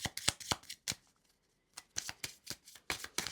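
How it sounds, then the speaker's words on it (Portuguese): Gypsy fortune-telling cards being shuffled by hand in quick riffling bursts, a pause in the middle, then more rapid crisp flicks, close and quiet with no talking. "só estou embaralhando."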